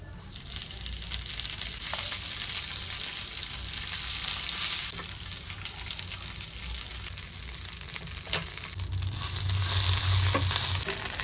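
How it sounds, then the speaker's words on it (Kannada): Spices sizzle steadily in hot oil in a pan, a continuous crackling hiss with no voices. "ಫಸ್ಟ್ ಒಂದು ತವಾದಲ್ಲಿ ಆಯಿಲ್ ಹಾಕ್ಕೊಳ್ಳಿ ಎರಡು ಸ್ಪೂನು ಆಮೇಲೆ ಈ ಎಲ್ಲ ಮಸಾಲ ಕೂಡ ಅದರೊಳಗೆ ಹಾಕಿ ಅದನ್ನು ಫ್ರೈ ಮಾಡಿ"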